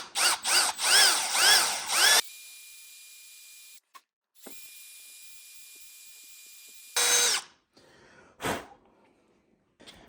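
A power drill with a big bit bores a hole through a Native Watercraft Titan X 12.5 kayak hull: several short revving bursts, a steady high whine, then a pause and a few brief final bursts, close up with no talk.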